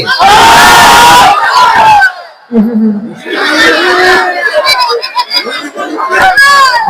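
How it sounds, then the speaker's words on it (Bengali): A crowd of married men chanting takbir in unison at an Islamic sermon, loud and close, in two surging bursts of massed voices separated by a short pause, the second blending into mixed shouting. "বিবাহিত ভাইরা আমার সঙ্গে তাকবীর দেন।"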